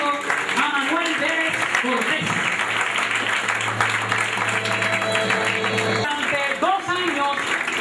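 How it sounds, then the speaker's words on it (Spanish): Audience applause at a Noche de Voces 2010 singing event, a steady dense wash of clapping running throughout, with a host's voice and a held musical tone over it. "Así que, fuerte el aplauso."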